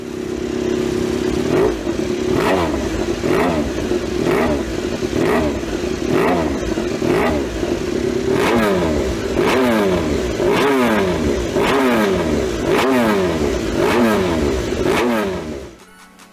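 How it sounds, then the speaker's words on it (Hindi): Honda race-inspired, road-legal 999cc superbike making 157 horsepower, its engine revving hard and close in a series of repeated sharp throttle blips and rising sweeps, then cutting off abruptly at the end. "गाड़ी की आवाज़ भी बिल्कुल रेस बाइक जैसी है।"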